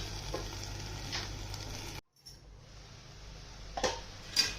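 Fenugreek leaf stir-fry (methi bhaji) in a pan gives a soft sizzle with a few scraping stirs, broken by a brief near-silent gap before the quiet frying resumes and a couple of louder clinks of the spoon.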